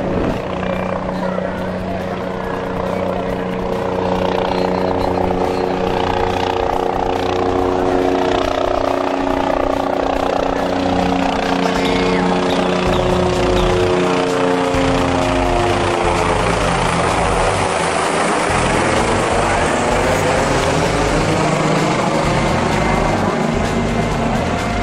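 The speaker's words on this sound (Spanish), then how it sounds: "el helicóptero patrulla." A Black Hawk police patrol helicopter flies overhead during a ground and air search operation, its loud steady rotor and engine drone filling the whole scene and shifting in pitch as it passes, with a voice talking over it.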